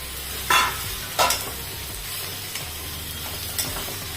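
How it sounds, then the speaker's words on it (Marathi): Potato slices are sautéed in a pan. A soft, steady sizzle runs throughout, broken by a few sharper spatula scrapes, fairly faint and close, with no talking. "आपण हे बटाट्याचे काप टाकून द्यायचे परतवून घ्यायचं"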